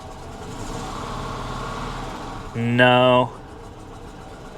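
A Dodge Challenger R/T with its check engine light on runs rough at idle, a steady low engine drone with a brief louder revving surge near the end, while a person speaks briefly.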